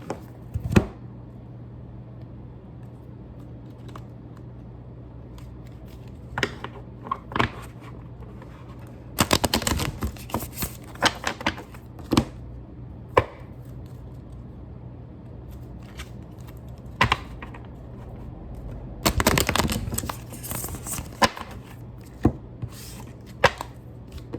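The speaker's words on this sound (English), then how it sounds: "it's really hard to shuffle this giant deck of cards." An oversized deck of cards being shuffled in bursts, with riffling flurries and scattered taps and clicks between them, close and moderately loud.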